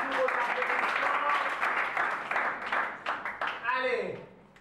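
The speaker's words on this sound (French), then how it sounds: "F3, sous vos applaudissements." Sustained audience applause greets students called up during a school broadcast, thinning out toward the end as a voice rises over the clapping.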